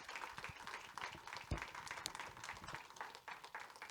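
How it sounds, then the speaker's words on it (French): A church congregation at an evangelistic gathering claps for the preacher's mother, a broad, steady wash of applause from the room with a few sharper claps standing out. "si on peut l'applaudir pour la gloire de Jésus"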